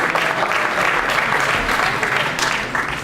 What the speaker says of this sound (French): On peut les accueillir en applaudissant encore